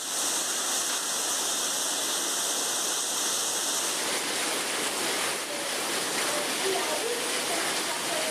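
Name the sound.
torrent of water pouring into a school courtyard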